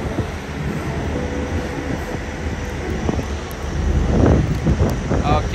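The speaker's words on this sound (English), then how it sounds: "so much noise from this reefers you don't even imagine" Refrigerated trailer units running at a gas station give a loud, steady mechanical roar that fills the whole stretch, swelling slightly toward the end.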